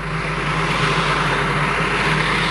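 A pulling tractor with a Massey 55k back end and big puller tyres at a tractor pull event, its engine holding a loud, sustained roar with a steady low drone underneath, close by and unbroken.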